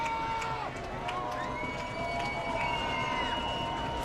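Stadium crowd at a high school football game between Preston and Snake River, a steady broadband roar of many voices with a few faint high whistle-like tones running through it.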